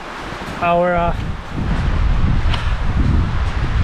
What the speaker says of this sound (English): It's quite a bit windier than the forecast had said